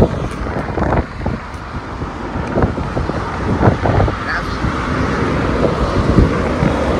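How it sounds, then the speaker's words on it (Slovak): Loud, steady wind roars and rumbles against the microphone, with gusts swelling throughout and faint voices buried underneath. "Strašne fúka, ospravedlňujem sa."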